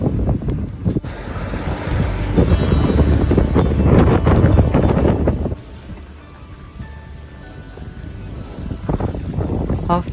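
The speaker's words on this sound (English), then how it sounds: "The wind filled the sails, and with a pretty good sea state" Strong wind buffets a sailing boat at sea in a lively swell, a loud roaring gust for about five seconds before easing to a quieter rush of wind and water, then rising again near the end.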